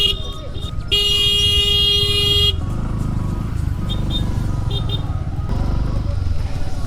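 Vehicle horns honk in a long roadside traffic jam on the route to Kedarnath: a sustained horn blast, then shorter toots, over rumbling engines and people talking.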